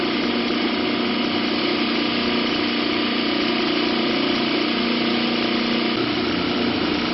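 An AC motor runs at about 80.8 volts, fed from a rotary inverter built with four solid-state relays. It gives a steady, loud, unbroken hum with an even mechanical drone from start to finish.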